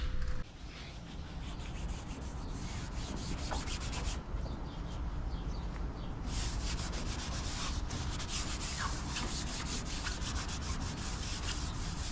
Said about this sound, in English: I'm gonna show you how I'm gonna be block sanding it.